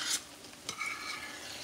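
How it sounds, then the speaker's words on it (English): Milk simmering down into corn in a pot for homestyle creamed corn, a soft bubbling sizzle with a brief stirring scrape, close and steady, brief. "See how that how that milk is cooking down into that corn"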